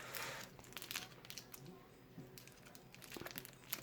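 Crinkly rustling and tearing of adhesive tape being handled and cut, with sharp crackles and scratchy bursts scattered across the clip, close up and fairly quiet.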